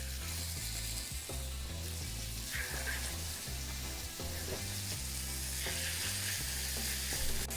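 Meat sears in olive oil in a hot pan, a constant bright sizzle with background music under it.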